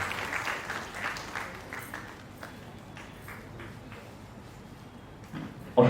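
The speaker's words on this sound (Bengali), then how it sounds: "একবার জোরে করতালি চাইছি" Audience applause at a theatre festival inauguration, a broad crowd clapping that is loudest at first and gradually thins and fades, with a sharp loud burst at the very end.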